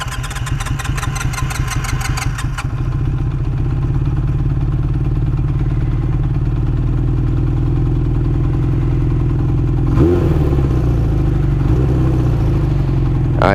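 A 1981 Honda CB900F motorcycle engine runs steadily and loud, a rapid sputtering beat at first that settles into a continuous idle, with a brief shift in tone near the end.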